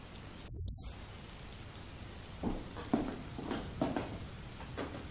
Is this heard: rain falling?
yes